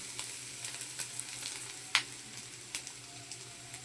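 Semolina tipped into a pan with fried egg gives a faint, low sizzle broken by a few soft ticks and a small clatter as it starts to fry.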